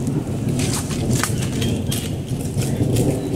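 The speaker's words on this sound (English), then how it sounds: "Yeah, lots of thunder" A thunderstorm builds over a vegetable garden of tomatoes and bell peppers: steady rain patter and hiss with low rumbling thunder underneath, loud and continuous, no voices.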